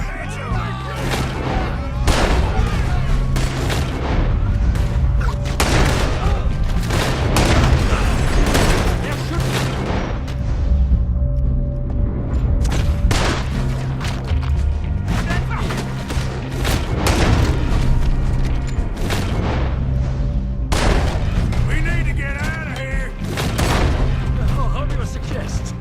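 Shots from a gunfight in Red Dead Redemption 2, a steady run of loud, sharp reports and booms over a tense music bed, continuous throughout.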